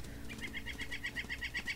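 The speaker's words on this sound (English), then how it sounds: "Loud birds! My god." Loud birds in the wildlife game WolfQuest chirp in a quick, rapid series of repeated high calls, close and prominent over a faint low ambient bed.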